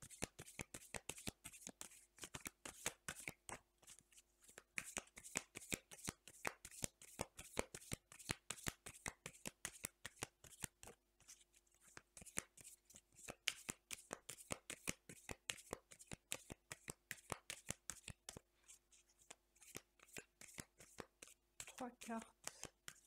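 Oracle cards, a mirrors oracle deck, being shuffled by hand, quick crisp riffling and flicking bursts repeating in a steady rhythm, close and faint and quiet, with soft speech occurring in the background.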